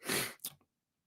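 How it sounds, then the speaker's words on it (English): A single close, loud sneeze bursts out abruptly, followed by a short sharp second exhale and a faint sniff before quiet. "I've had this sneeze in here"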